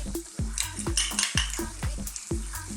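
Garlic ginger paste goes into a pan of frying red onion for a mushroom peas curry, then gets stirred: regular scraping and clanking strokes of a utensil against the pan over a bright sizzle.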